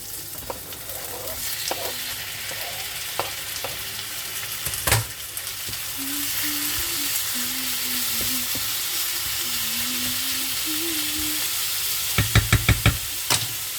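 Steady frying sizzle from a pan of spiced stuffed-potato dish fills the clip, with occasional sharp knocks and a burst of quick scraping taps near the end, like stirring.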